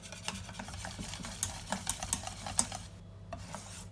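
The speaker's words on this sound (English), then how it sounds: "So just keep whisking until your cheese is melted" A whisk stirs cheese sauce for mac and cheese in a pan, giving quick, irregular metallic clicks and scrapes close by that stop near the end.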